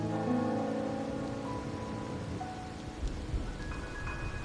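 Steady rain falling in the Wuthering Waves game world, a soft, even hiss with light patter on surfaces, continuous and moderately close, mixed with faint tonal music and no talking.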